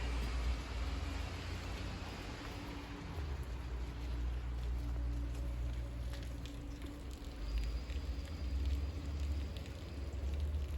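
Steady rain falls outside a window on a wet winter day with no snow, a continuous even hiss of drops that stays moderately loud and unchanging throughout, with no one speaking.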